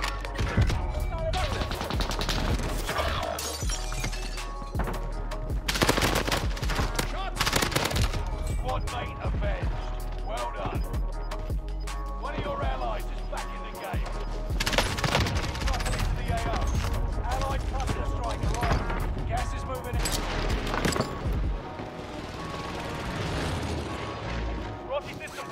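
Gunfire in the video game Warzone crackles in rapid bursts and sustained automatic volleys, loud and dense throughout, with a player talking over the shooting.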